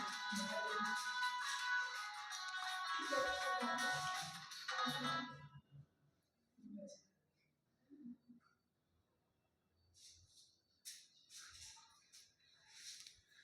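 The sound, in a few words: phone ringtone during lecture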